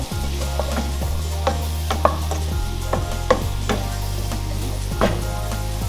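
Onion and garlic sizzling and frying in a pot for Cuban-style pumpkin soup, a steady close hiss with occasional stirring scrapes and clinks, no talking.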